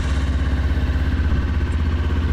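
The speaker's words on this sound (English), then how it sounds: "engine is on." A motorcycle engine idles in neutral close by, giving a loud, steady low throb with a regular pulsing beat that holds through the whole clip, with no talking.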